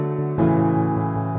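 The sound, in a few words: synth piano with filter opening up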